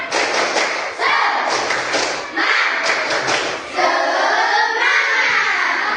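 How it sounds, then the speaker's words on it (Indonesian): A classroom of pupils performs tepuk semangat, patterned rhythmic clapping mixed with loud group chanting, repeated in several close bursts. "kita tepuk semangat dulu. Tepuk semangat."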